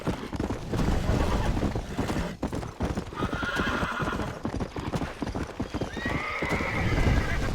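Hooves clatter in a rapid galloping rhythm in the video game Red Dead Redemption, close and loud, with a horse whinnying partway through and again near the end.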